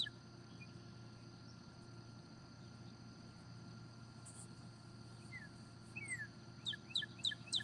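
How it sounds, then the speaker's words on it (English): Quiet outdoor ambience with a steady low hum, then several quick bird chirps and tweets toward the end, moderately distant. "Those some pretty birds."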